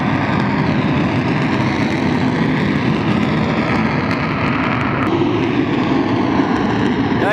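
Semeru volcano in Indonesia rumbles, a loud and continuous roaring, churning drone that holds steady without pause.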